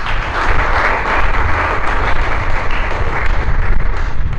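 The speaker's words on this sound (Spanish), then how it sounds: "Dale un aplauso al Creador" An audience applauds at a religious talk with loud, dense and continuous clapping that sounds close and fills the space with no pause.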